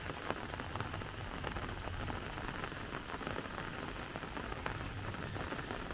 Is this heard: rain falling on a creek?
yes